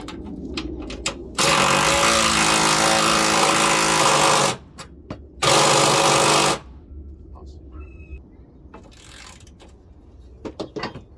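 An impact gun hammers at a tight bolt on a Chevy Impala in a loud, rattling burst of about three seconds, then a shorter second burst, with quieter handling clatter around them.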